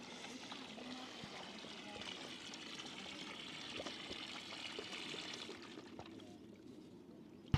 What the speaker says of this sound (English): I don't know if you can see this pipe here, but this literally goes right up into the glaciers. This is a glacier fed water.